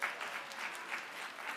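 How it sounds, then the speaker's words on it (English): Fairly faint but steady applause from a small audience at a lunchtime chat, an even patter of clapping without speech, heard from a moderate distance. "let's give a round of applause for that number."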